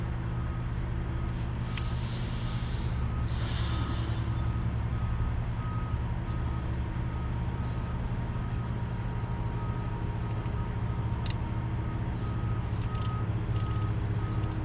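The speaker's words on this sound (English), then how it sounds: "there are really big trucks running their diesel engines and beeping when they back up" Big diesel trucks rumble steadily while faint, evenly spaced reversing beeps repeat in the background.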